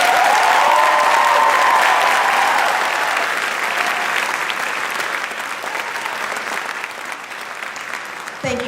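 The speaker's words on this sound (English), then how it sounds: "Give them all a round of applause" A crowd at a 2019 early college graduation ceremony gives the graduates a long round of applause, loud and dense at first and easing slightly as it continues, with a voice and a tone heard near the start.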